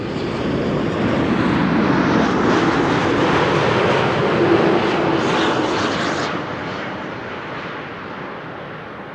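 Aircraft C-GHQQ at Amsterdam Schiphol Airport, a loud, close jet roar that sustains strongly for several seconds, then eases and fades slightly toward the end, with no talk.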